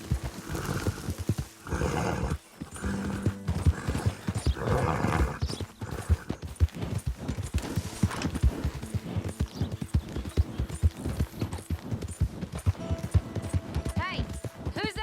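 A horse gallops in Red Dead Redemption 2, its quick rhythmic hoofbeats pounding close over the whole stretch, with a whinny, tack jingles, game music and talking voices mixed in.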